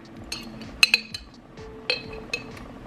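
A spoon clinks against a glass jar of jalapenos several times, sharp close taps spaced irregularly over a quiet kitchen background.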